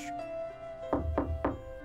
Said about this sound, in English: A knock at my door startled me out of my thoughts.